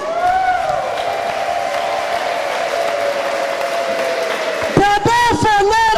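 A church congregation claps together in a sustained wash of applause for several seconds, with a singing voice carrying over it and then cheering or shouting near the end.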